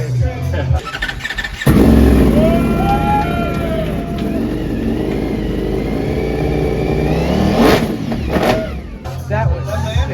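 A 2025 Ducati Panigale V4S with an Akrapovic exhaust starts up and revs, a loud, raspy engine roar rising and falling with sharp throttle blips and squealing tones, while people talk over it.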